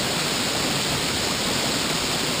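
Canoe Creek rushes in a dense, continuous wash of broadband noise, like a fast stream or small waterfall nearby. Loud and steady, with no voices.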